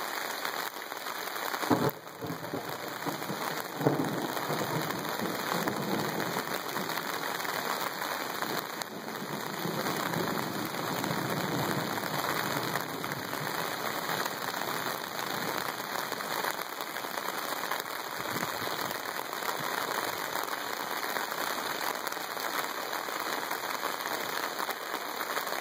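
Steady rain falls on a road where runoff converges into a sheet of water, a dense, continuous hiss that stays even and close for the whole stretch with no voices over it.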